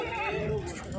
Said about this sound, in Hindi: ए घोड़ा ए सारे नीले घोड़े आ मज्जू के लाइन दे आ